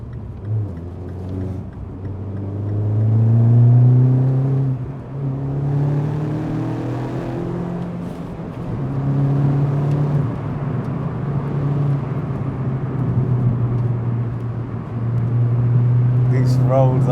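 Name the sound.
Mini John Cooper Works GP engine revving while driving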